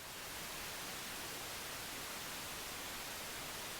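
A steady, even crackling hiss of chicken frying in oil continues unchanged throughout, with the soft, constant texture of heavy rain.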